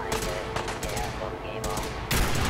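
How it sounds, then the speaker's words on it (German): Rapid bursts of gunfire in Fallout 4, sharp cracking shots in quick clusters with a louder volley near the end, close and punchy, with voices in the background. "Die schießen mit radioaktiven Geschossen!"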